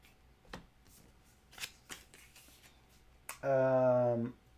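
Cards from the Pathfinder Adventure Card Game are handled in scattered soft flicks, then a deck is riffle-shuffled in a loud, continuous burst close by, with quiet talk at the table.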